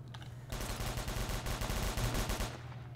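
Rapid automatic gunfire in the ERLC San Andreas roleplay Roblox game, a dense burst of shots lasting about two seconds after a brief lull, loud and close with no talking.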